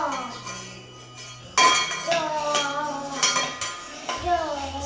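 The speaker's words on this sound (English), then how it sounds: "Stir it up." A small child stirs dinner in a pot with a utensil, giving a run of irregular clinks and scrapes of metal on cookware, close and fairly loud, while a voice talks softly in the background.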